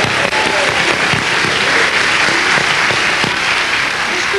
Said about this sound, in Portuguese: Palmas para o público.